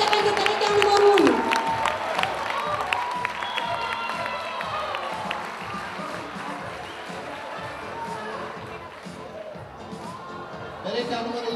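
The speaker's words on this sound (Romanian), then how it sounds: "Aplauze pentru perechea numărul 1" An audience at a school freshman ball applauds and cheers for the first couple, a loud burst that settles into sustained crowd noise with a voice carrying over it.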